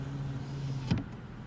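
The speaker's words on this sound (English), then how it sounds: "the back glass, power." The powered rear sliding glass of a Toyota Tacoma TRD Sport pickup runs with a steady motor hum inside the cab, ending in a brief soft thunk as it stops.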